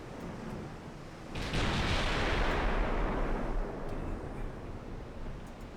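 Naval guns fire in the warship battle game Ultimate Admiral Dreadnoughts, a single heavy boom landing after a quiet second and rolling into a long rumbling decay.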